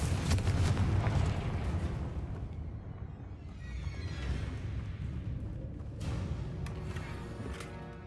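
A booming fire-spell explosion from Hogwarts Legacy, the Confringo blast hitting hard at the start and then rumbling and crackling as it fades, with a smaller burst later on.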